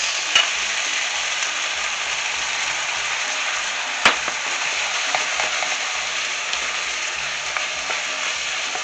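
Blood orange sauce goes into a pan with steak and hits the heat, giving a steady, close sizzle with occasional clicks and scrapes of stirring, and no voices.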